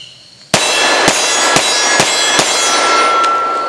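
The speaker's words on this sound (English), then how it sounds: "We'll shoot the 114 grain 45 ACP now out of this 5-inch all-steel pistol." Five-inch all-steel pistol firing 114 grain 45 ACP rounds, five sharp, loud reports in a fairly even rhythm about half a second apart, each followed by ringing reverberation, with no talk.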